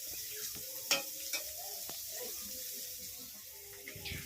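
Medium-sized onion pieces frying lightly for a jackfruit curry, a soft steady sizzle broken by a few sharp scrapes and clinks of stirring in the pan.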